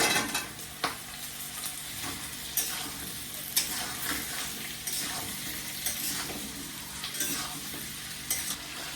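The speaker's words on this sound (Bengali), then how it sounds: "দিয়ে দেবো কুমড়ো আর আলুটা ভেজে নেবো এর সাথে" Potato and pumpkin chunks frying with browned onion and green chili in a pan, a steady close sizzle with occasional stirring scrapes and soft clinks of a spatula, no voices.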